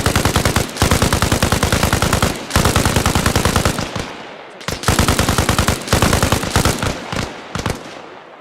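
Machine gun fire during army air assault platoon training, loud sustained automatic bursts of rapid shots with brief gaps between them, close and dominant with echoing tails.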